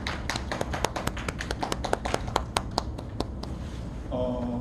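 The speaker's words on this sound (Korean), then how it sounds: "박수로 민주 고생했다고" A small church youth-service group claps for Minju. A short burst of scattered, fairly light claps fades out after a few seconds, and a quieter tone follows.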